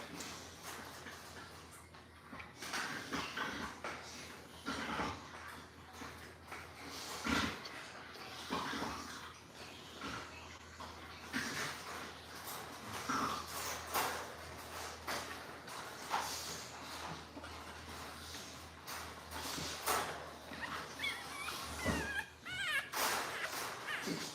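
Puppies from a litter of two or three whimper and shuffle while feeding, with soft, intermittent whines and scuffling close by at low level.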